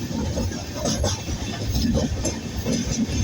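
A train rolls steadily across the Godavari River, with a continuous rumbling clatter and faint rhythmic knocks from the wheels, heard from inside a carriage.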